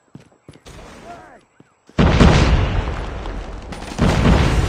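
A frag grenade in Call of Duty Mobile bursts into a loud, sustained roar that swells again a couple of seconds later, after a stretch of quieter clatter.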